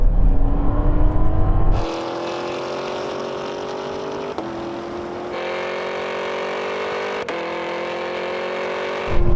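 Cars accelerating hard from a 50 mph rolling start in a half-mile drag race, loud engine roar rising steadily in pitch through gear changes with brief shift breaks, heard continuously.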